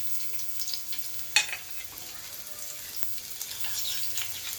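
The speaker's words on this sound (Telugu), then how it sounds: "ఆయిల్ వేడవగానే ఈ పచ్చిమిర్చిని వేసుకోవాలి." Green chilies sizzle and crackle in hot oil in a pan, a steady, fairly quiet frying hiss with one sharp pop early on.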